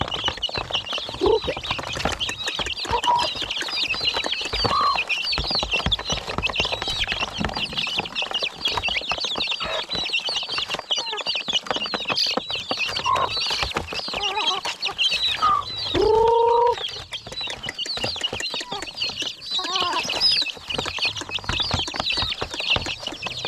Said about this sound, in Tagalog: dito po ang tandang natin